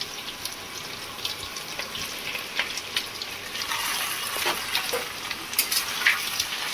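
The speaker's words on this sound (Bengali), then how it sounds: "এটা 5 মিনিট আমি নাড়াচাড়া করে নেব" Chicken pieces frying in a pan with vegetables for chicken pishpash, a moderate steady sizzle with intermittent stirring scrapes and clinks, close and fairly quiet.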